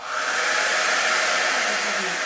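A Babyliss Hydro Fusion rotating hot-air hair brush runs close by, blowing with a loud, even whoosh and hum throughout.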